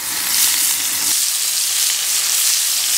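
Loud, steady sizzling of Moroccan-spiced meatballs frying in a hot pan, close up and continuous, with a faint stirring sound early on.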